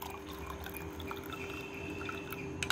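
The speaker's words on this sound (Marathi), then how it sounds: "आता आपण त्याच्यामध्ये पाणी टाकणार आहोत" Water pours steadily into a glass of aloe vera juice mixed with lemon and honey. A continuous close trickle and splash runs the whole time with no talk.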